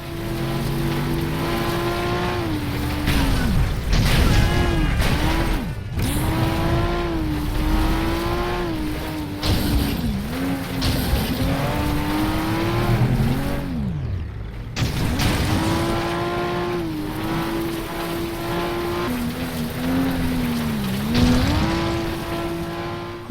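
Race car engines in the FlatOut video game roar loud and steady, pitching up and down through repeated gear shifts with brief drops and renewed acceleration, no talking.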